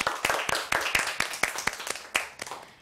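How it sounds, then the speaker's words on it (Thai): Schoolchildren in a classroom math lesson clap together in a quick, regular rhythm of about a dozen sharp, close claps for a classmate. "เราปรบมือให้เพื่อนหน่อยเร็ว"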